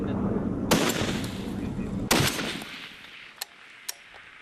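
Rifle shots on a sniper training range shared by Australian and Canadian service members: two sharp, loud reports with rolling echoes, then two fainter distant cracks as the sound fades.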